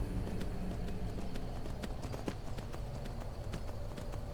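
A horse's hooves clop in a quick, even rhythm while it climbs a mountain in Skyrim. The hoofbeats are loud and close, with a steady game ambience running underneath.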